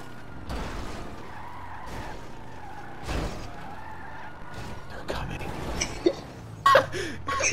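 A car in GTA drives off-road, giving a rough rumble broken by thumps, jolts and tire skids that grow louder toward the end. Voices murmur faintly underneath.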